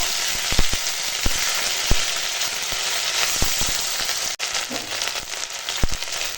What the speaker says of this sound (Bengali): দেখো ফোড়নটা এখন ভাজা হয়ে গেছে, এখন দিয়ে দিচ্ছি আদা জিরে বাটা